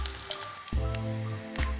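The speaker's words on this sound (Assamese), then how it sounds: "ভাজি থাকিম" Garlic frying in a pan while cooking green jute leaves, a close, steady sizzle with brief bursts and hisses as the pan is worked, and no talking.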